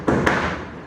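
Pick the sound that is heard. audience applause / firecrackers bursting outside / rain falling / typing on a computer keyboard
firecrackers bursting outside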